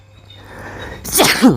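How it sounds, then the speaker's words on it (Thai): A man sneezes once, loudly and close up, near the end, after a quiet stretch of faint background game sounds while playing Amikin Survival. "เกิดการจามขึ้นมานิดนึงนะแม่ จามมันกลางทิปแบบนี้เลย"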